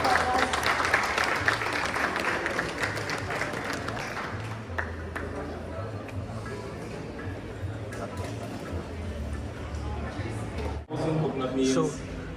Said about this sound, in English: please give the minister again a warm round of applause